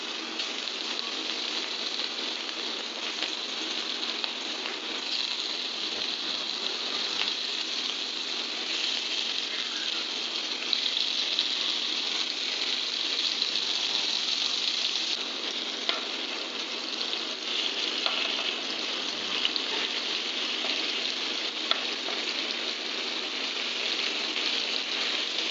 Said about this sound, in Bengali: সাদা তেলে একটু হালকা ভেজে নেব।